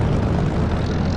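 A propeller aircraft engine in the DCS flight simulator runs at a steady, loud, full drone while throttling up for taxi toward the runway. No voices are heard.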